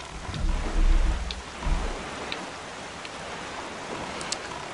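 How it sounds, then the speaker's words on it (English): A stormy sea in Zelda: The Wind Waker, with steady heavy rain hissing throughout and a low thunder rumble swelling and fading early on, then the downpour continuing alone. "It's getting all stormy."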